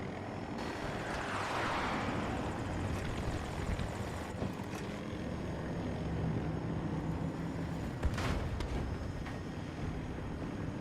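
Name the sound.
helicopter approaching in video game Battlefield 2042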